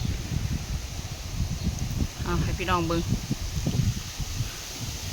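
Strong wind gusts blow through rustling leaves near a sugarcane field, a constant low buffeting roar against the microphone, while someone talks over it.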